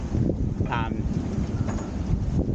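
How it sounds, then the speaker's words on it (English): Strong wind roars against a sailing yacht at sea, a dense, close buffeting rush with microphone wind noise, broken by a brief high creak or whistle partway through. "and then suddenly this wind hit"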